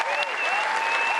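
A Wimbledon tennis crowd on show court 2 applauds steadily at a tiebreak finish, a dense, continuous clatter of clapping from many hands throughout, with faint whistles over it.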